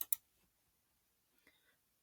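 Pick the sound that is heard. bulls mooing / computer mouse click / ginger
computer mouse click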